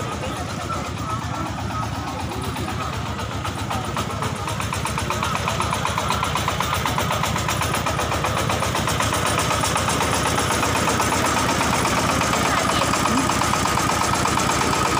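Farm tractor engine idling at the Cimory Dairyland dairy farm attraction, a steady loud rumbling chug throughout, with people talking in Indonesian nearby over it.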